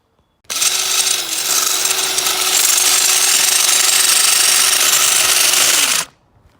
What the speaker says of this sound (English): let's go and drill a big hole through the side now.